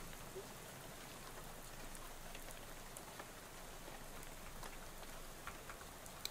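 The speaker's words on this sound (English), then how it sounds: "He smiles and looks up and lets rain splash on his face for a while." Steady rain pours in the video game Shadows Over Loathing, a dense, even hiss of drops splashing on surfaces that holds constant throughout with no voices.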